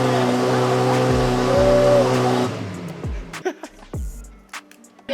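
A Liberty Walk Lamborghini Aventador engine roars loud and close, a sustained heavy drone that cuts off abruptly, followed by sharp pops and crackles from the exhaust.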